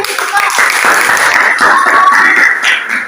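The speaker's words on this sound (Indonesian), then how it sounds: "tepuk tangan dulu" Students in a classroom clap their hands together in a dense burst of applause lasting a few seconds, close and loud, with voices mixed in.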